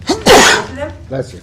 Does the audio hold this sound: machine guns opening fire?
no